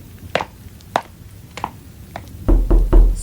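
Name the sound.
knocking on a door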